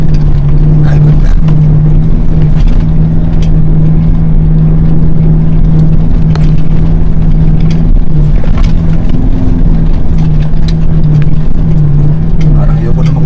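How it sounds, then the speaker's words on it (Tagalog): A vehicle engine labours steadily in first gear as it climbs a rough trail. The drone stays loud and constant throughout, with wind buffeting over it and no audible talk. "pakinggan nyo ang tunog ng makina. Primera yan, first gear."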